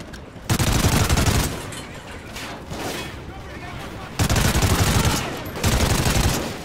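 Loud automatic gunfire in the Call of Duty: Ghosts campaign mission "Birds of Prey" rattles in several sustained bursts with short pauses between them, while someone talks over the shooting.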